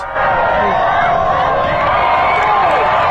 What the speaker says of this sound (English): Now, to most of us, a football game sounds like this.